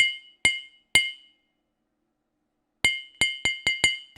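A glass holding a viscous liquid is struck with a hard object: two bright clinks, a pause, then a quick run of five or six sharp taps, each ringing briefly and close.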